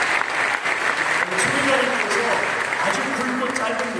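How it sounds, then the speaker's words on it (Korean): Audience applause at a church school gathering, loud, dense clapping from a crowd that keeps going throughout, with a voice speaking over it. "우리 박수 한번 드리겠습니다"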